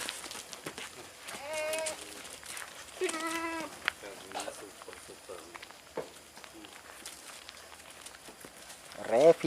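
Goats in a fattening pen bleat repeatedly, several loud wavering cries near at hand, broken by scattered rustling and shuffling, with someone talking in between and another bleat at the end.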